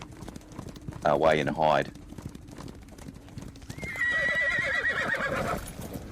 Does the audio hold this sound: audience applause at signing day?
no